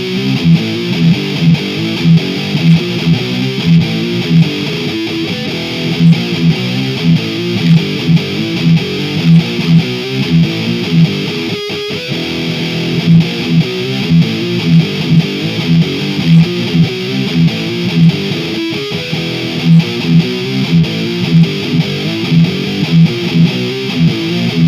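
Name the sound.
Harley Benton HWY-25 electric guitar through Amplitube 5 distortion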